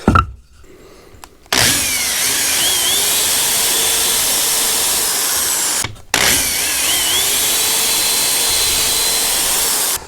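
A power drill whirs loudly and steadily at close range in two long runs while pre-drilling ceiling framing, with a brief pause between them and a short burst at the start.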